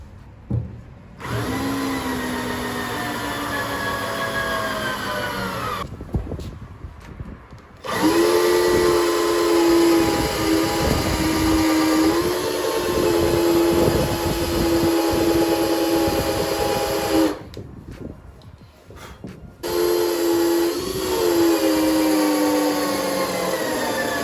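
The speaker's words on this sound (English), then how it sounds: "Drill a little bigger." A power drill boring holes through a kayak hull for a trolling motor mount, whining loudly in three long bursts separated by short pauses, with the motor pitch holding steady during each run.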